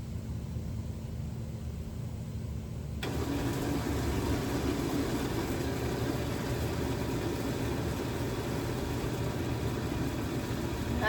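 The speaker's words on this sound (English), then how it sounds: "Here comes the blending." A kitchen blender starts up and runs continuously, blending a smoothie of mango, alfalfa, oats and worm tea; a steady loud whirring drone with no voices.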